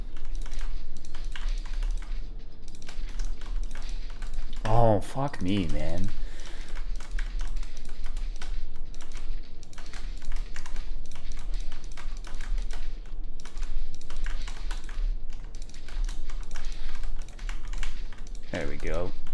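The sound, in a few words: fast computer keyboard typing and clicking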